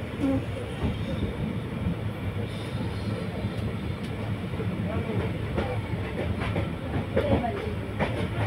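Aboard the Kulik Express passenger train heading toward Malda, rails rumble steadily with rhythmic clickety-clack and occasional faint squeals, heard continuously from inside the moving carriage.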